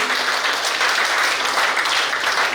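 Loud, steady applause from an audience at a Women's Day celebration in Mangalore, a dense wash of clapping that holds evenly from start to finish.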